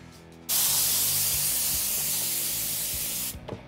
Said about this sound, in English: since we have a compressor on board this one, I could just blow all this stuff out the back